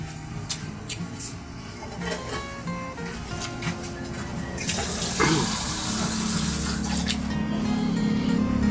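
Water runs steadily from a tap at a household sink, a continuous splashing rush that grows louder and fuller halfway through. It sits against light background clatter and nobody speaks.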